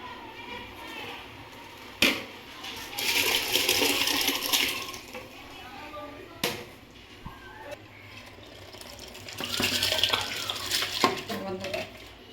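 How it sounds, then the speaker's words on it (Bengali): Washed rice poured into a pot of hot salted water for chicken biryani: a sharp metallic clink, then a rushing pour and rattling grains, more clinks and a second pour later, close by, with no talk. "আমি এবার ধুয়ে রাখা চালটা এবার দিয়ে দেবো"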